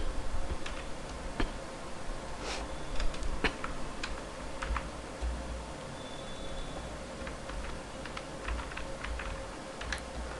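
Fast, steady clicking of a computer keyboard as C++ code is typed, close and clear, with a faint background hum and no talking.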